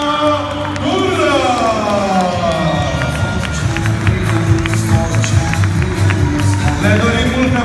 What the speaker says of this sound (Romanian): încă o dată aplauze pentru magnificii de la Potaisa